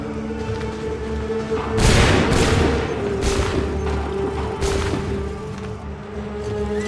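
Musket volleys in Assassin's Creed III: several loud cracking bursts of massed gunfire over a battlefield backdrop of steady droning rumble, with shots spaced a second or so apart.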